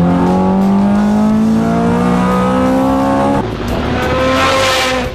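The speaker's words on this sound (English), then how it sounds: "This V8 has a screech and a howl to it that is unmatched." A tuned Ferrari V8 of about 500 horsepower screams loudly up through the revs with a rising howl, then shifts and climbs again, with a touch of tire squeal, close and alone.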